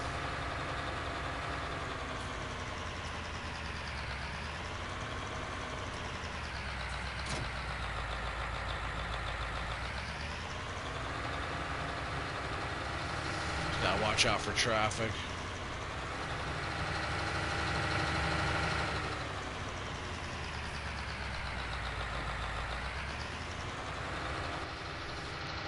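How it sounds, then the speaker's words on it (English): A tractor engine in Farming Simulator 19 drones steadily while driving, its pitch rising and falling with throttle, close and continuous; someone speaks briefly over it. "I love this tractor. Oh, that thing sounds so good."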